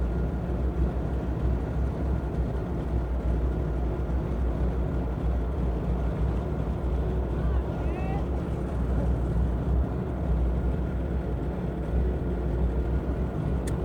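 Heavy engine of someone's tank car pulling away in low gear, a steady deep rumble running throughout with wind buffeting, while people talk over it.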